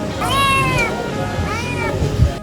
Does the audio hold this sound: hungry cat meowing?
yes